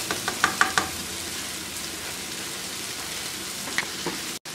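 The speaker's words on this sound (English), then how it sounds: "saute the rice until the rice turns golden brown" Rice sautéing in a pan until golden brown, a continuous close sizzle with a few light taps and stirring clicks near the start and end, alone without talk.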